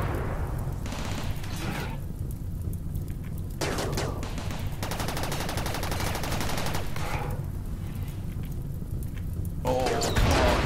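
Gunfire in the RimWorld video game during a mechanoid attack on a base: sustained rattling fusillades and rapid automatic bursts, loud and dense, continuing almost throughout.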